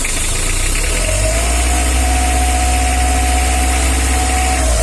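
Mitsubishi L300 diesel engine idling roughly before injection pump adjustment, a steady loud rumbling drone with knocking vibration and a faint whine, recorded up close with no talking.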